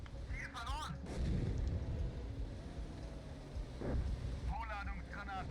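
Artillery explosions in the GHPC tank game, rolling low booms and rumbling impacts that carry on throughout, with a few short whistling squeals near the start and end.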